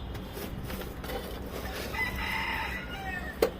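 A rooster crows faintly in a rural yard, a single drawn-out call midway through, over a low background of rustling ambience and a brief knock near the end.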